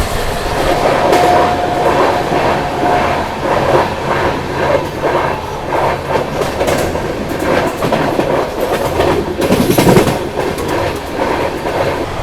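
Pune–Amravati Superfast Express passing close by with a steady rolling roar and rhythmic clickety-clack of wheels over rail joints, loud throughout, with brief metallic squeals near the end.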